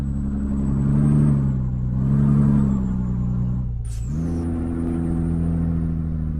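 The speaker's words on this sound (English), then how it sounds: "We're just gonna let these cars go by." Passing traffic in Euro Truck Simulator 2 gives off a steady, fairly loud engine drone that swells and eases as cars roll by, with a brief whoosh of a vehicle rushing past near the end.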